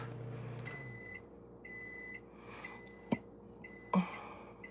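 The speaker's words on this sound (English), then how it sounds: "phone keeps going off" A work phone's notification beeps sound in a quiet indoor space, several short repeated electronic tones in a rhythmic pattern, with a couple of sharp knocks near the end.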